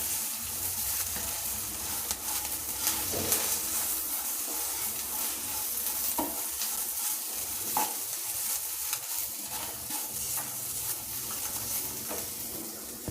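Ridge gourd peel is stir-fried in a pan with a pinch of asafoetida, producing a dense, even sizzle and repeated spatula scrapes and taps against the pan, up close and with no voices.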